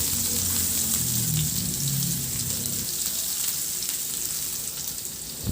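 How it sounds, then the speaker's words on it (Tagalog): Garlic sautéing in reduced oil left in a wok after frying fish, a loud continuous crackling sizzle close up, with a low hum fading out partway, and no talk. "Binawasan ko lang yung mantika at igisa ko na rin yung bawang."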